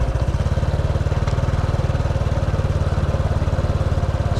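Borrowed motorcycle engine running steadily at idle close by, a fast even low throb with a faint pop near the middle, no talk, on the way to traditional rock-side fishing.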